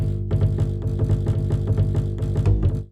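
A stock Meat Bass 3 synth bass preset plays a rhythmic drum and bass pattern of short, punchy notes, heavy in the low end, with no voices.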